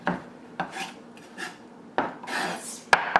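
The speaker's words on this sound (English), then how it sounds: "Really chop it fine so it can go nicely in the dish" Knife chopping parsley finely on a board at home, a series of close, crisp board strikes in bursts with scraping rasps between them.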